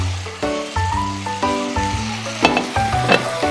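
Anchovies are stir-fried in a bubbling seasoning sauce for Korean myeolchi-bokkeum, making a steady loud sizzle and crackle with scraping utensil strokes as the pan is stirred. No one speaks.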